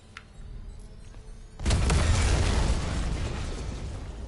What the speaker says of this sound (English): Take cover to detonate.